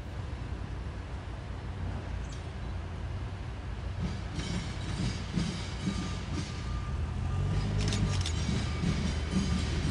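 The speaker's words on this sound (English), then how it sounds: "we catch the CSX southbound manifest passing over the diamond" A long CSX southbound manifest freight train rumbles across a railroad diamond in Chicago, its low roar building toward the end with rhythmic wheel clatter and a brief metallic squeal.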